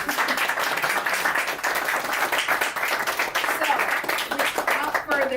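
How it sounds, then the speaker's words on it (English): An audience at a book signing breaks into applause, clapping steadily and fairly close, with voices talking and cheering over it. "So give her a round of applause."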